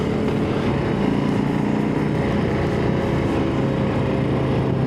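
A small engine drones steadily up close, a constant buzzing hum with no breaks, like a moped or light motorcycle running under load.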